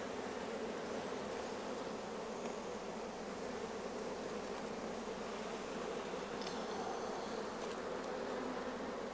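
Honey bees swarm and drone around an open hive during a honey harvest. The buzz is a steady, dense hum that continues for the whole stretch without letting up, and there is no talk.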